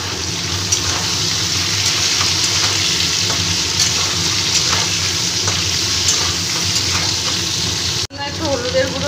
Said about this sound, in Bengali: এবার আমি এই কেটে রাখা বেগুনগুলো দিয়ে আবার ভেজে নেব